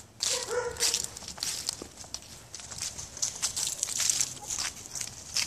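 A small dog yips and whimpers a few times near by, with light footsteps and rustling movement in the background.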